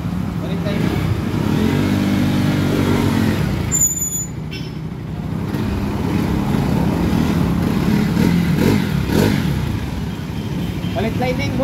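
A Kawasaki NS 200 motorcycle that starts but will not move, apparently from a worn clutch lining, runs and revs nearby. Its steady engine drone rises and falls throughout, with a brief dip near the middle.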